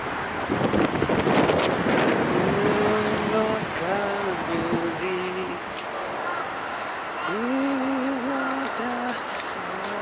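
Wind gusts buffet the microphone outdoors in Osaka, a loud rumbling roar that eases midway while people talk over it.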